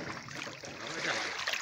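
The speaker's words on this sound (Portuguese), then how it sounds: "Olha o barulho da água aqui, ó." Water flows steadily somewhere outdoors in Rio Grande do Sul, Brazil, as a continuous, broad rushing wash that stays fairly even throughout, with no voices over it.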